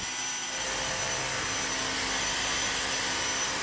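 Dyson DC59 cordless vacuum cleaner running on a hard floor picking up fine dust, a loud steady high-pitched whine that starts near the beginning and continues unbroken.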